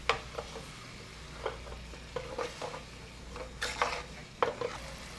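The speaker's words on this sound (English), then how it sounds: "Take your spatula, scrape the sides and bottom of the pan." A spatula scrapes the bottom and sides of a pan holding chicken stock, a series of short, close scraping strokes over a faint bubbling sizzle.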